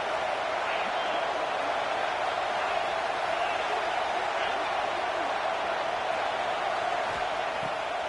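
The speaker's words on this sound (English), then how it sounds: "The Buckeye crowd alive on 3rd down." Ohio State football stadium crowd roaring during a third-down play against SMU, a steady dense wall of cheering that holds at high volume throughout, with no clear breaks or individual voices standing out.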